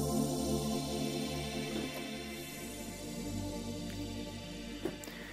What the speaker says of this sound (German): Und ich beginne hier mal mit diesem sogenannten Mystic Pad.